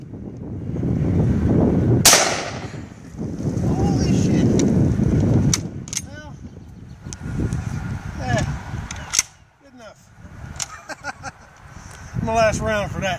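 A rifle fires 7.62x54R rounds at a watermelon outdoors: a loud sharp crack early on, then rumbling noise and scattered clicks, with people talking through much of it.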